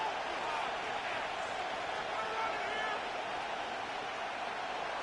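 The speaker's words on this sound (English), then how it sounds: "The crowd cranking it up another notch before 3rd and long." Football stadium crowd building in noise ahead of a third-and-long play, a dense, distant roar holding steady and loud throughout.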